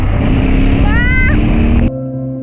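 A motorcycle engine revs through a quick acceleration, its pitch climbing then dropping over a steady motor drone before the sound cuts down sharply.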